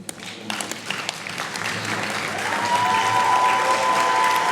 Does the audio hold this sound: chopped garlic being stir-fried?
no